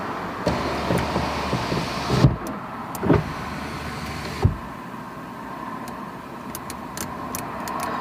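A car's power window motor whirs inside the cabin, then stalls and jams partway with a few thunks, heard close over a low engine hum.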